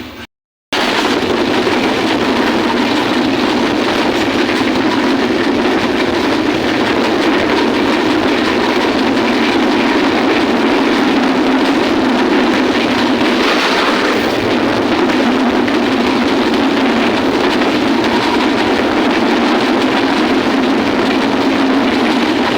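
The Drutojan Express passenger train runs on its Panchagarh to Dhaka route after leaving Ishwardi Bypass station. A loud, sustained rumbling roar of wheels on rails with steady clatter continues for over twenty seconds without pause.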